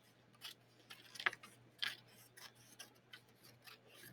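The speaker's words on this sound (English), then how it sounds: "So I can take this strip and I could cut it" Scissors snip a weaving strip to make it thinner, a few quiet, close, crisp cuts and light rubbing of the material against near silence.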